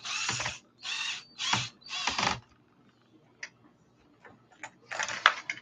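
Bolting down a part on an ARRMA RC car with a hand tool, giving a few bursts of rapid ratcheting clicks followed by scattered small ticks and taps, close and fairly quiet.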